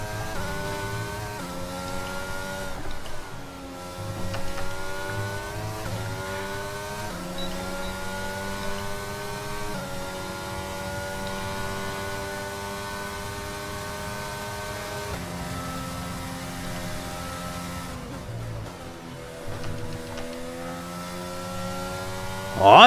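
A Formula 1 car in the racing video game F1 22 drives fast laps, its high, whining engine note rising and falling through repeated gear shifts and braking over more than twenty seconds, with no voices.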